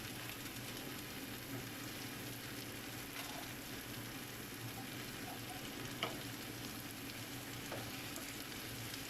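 Jackfruit sautéed with sardines in a pan gives a steady soft sizzle and frying crackle, quiet and close, with a few faint utensil taps.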